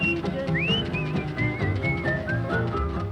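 A clear, melodic whistled tune with sliding notes on a record after a verse, over a backing of music, bright and steady through the passage.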